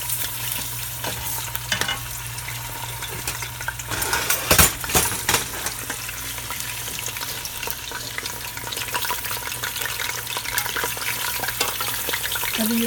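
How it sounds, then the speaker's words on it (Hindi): Meat browning in a pot for nihari with a steady sizzle, with occasional scraping and clinking of a utensil stirring against the metal. "गोश्त भी थोड़ा ब्राउन हो जाएगा।"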